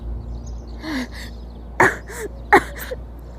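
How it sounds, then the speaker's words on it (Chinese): An older woman coughs in a few short, dry bursts, with a breathy vocal sound before them and two sharper, louder coughs near the end, close to the microphone in a quiet room. "我也开始咳嗽了"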